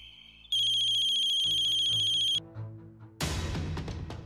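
A mobile phone ringtone plays loudly in a repeating electronic melody for about two seconds, followed by softer tones and then a burst of broadband noise, with no speech.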